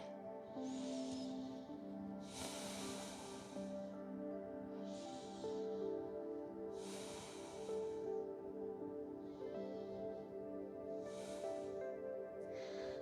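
Slow, deep breathing during a yoga pose, with airy inhales and exhales repeating at a steady, unhurried pace, close and soft, over a faint tonal hum.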